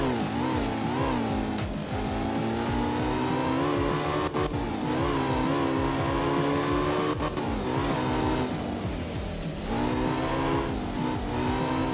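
A rally car in the video game art of rally drives a wet, rainy track in Japan, its engine droning loudly and continuously with rising and falling revs, gear changes and brief tire noise.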